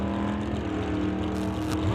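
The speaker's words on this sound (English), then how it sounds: "So dragster rolls, bumps forward." Drag racing at an NHRA Summit ET Series event, a dragster rolling and bumping forward to stage at the start line, its steady loud idling engine rumble continuous and close throughout.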